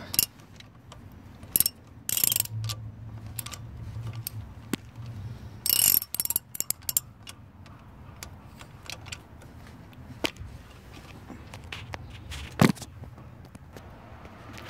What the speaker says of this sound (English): Let's use a real ratchet this time.